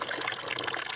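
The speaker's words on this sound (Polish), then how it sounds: "ja tu jeszcze sobie popompuję wodę" Water pumped outdoors, a brief, continuous gushing splash that is close and fairly loud.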